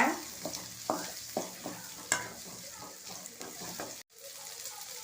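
Onions with ginger and green chillies sauté in a pan for chilli parotta, a steady sizzle broken by repeated spatula scrapes and stirs, with a brief cutoff near the end and no talk.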